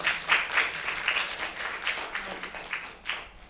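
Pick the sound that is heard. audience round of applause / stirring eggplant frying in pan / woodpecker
audience round of applause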